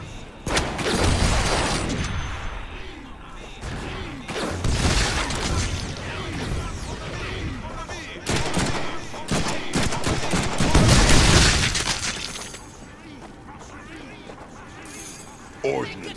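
Heavy shotgun blasts boom repeatedly in the Deadpool video game, loud close-range shots scattered irregularly among crashes and other gunfire, with a character talking in between.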